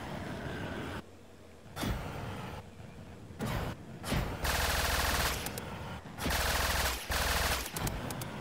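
A minigun on an aircraft in Trailmakers, an airborne vehicle-building game, fires in long sustained bursts of rapid automatic fire that start and stop over engine noise, loud and dense throughout.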